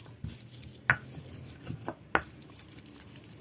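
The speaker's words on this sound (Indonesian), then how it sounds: "Saya nguleknya nggak sampai halus ya" Shallots, garlic and spices are crushed in a stone cobek mortar, giving a few sharp knocks and scraping taps at an uneven pace, close and quiet, with no speech.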